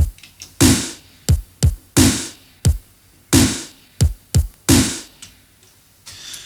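A basic two-drum pattern played back on a 1984 Mainframe DS3 computer drum sequencer: loud, dry electronic drum hits alternating in a steady repeating groove, booming low thuds and sharper snappy strikes, with no voice.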